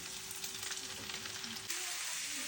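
Chicken fillet, onion and mushrooms frying in a pan, a dense steady sizzle close up that shifts abruptly partway through, with no talking.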